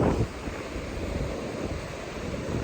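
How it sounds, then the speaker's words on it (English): Strong wind buffets the microphone in a continuous roar, mixed with the wash of surf at the beach, loud and unbroken. "you're not going to hear me because of the wind"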